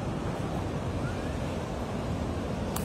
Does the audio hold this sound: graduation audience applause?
no